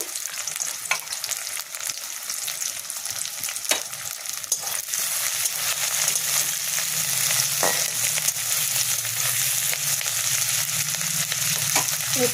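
Ginger fries in hot oil with onions for a soybean curry, giving a steady, close sizzle with occasional clinks and scrapes of stirring that builds slightly louder over time.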